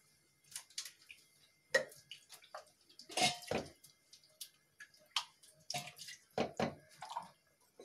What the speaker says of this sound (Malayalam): ഒത്തിരി വെള്ളം കൂടി ഒഴിക്കാം.